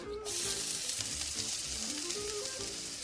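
Finely chopped, almost minced onion hitting shimmering hot oil, a bright continuous sizzle that bursts in suddenly and carries on steadily, close up, with faint stirring underneath.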